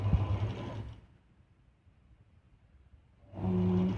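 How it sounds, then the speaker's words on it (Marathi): A sewing machine stitching a blouse sleeve runs in two short mechanical bursts, one at the start and one near the end, with a quiet pause between them and no talking. "बाजूने आपण शिवून घेतला आता."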